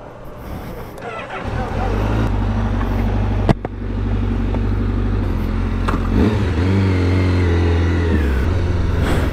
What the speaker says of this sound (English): Man, it's a noisy bike. That exhaust is loud. So is the intake.